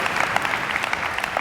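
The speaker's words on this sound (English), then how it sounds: "Give them a round of applause." A brief burst of audience applause at a live comedy show, a continuous hissy wash of many hands clapping at a moderate level.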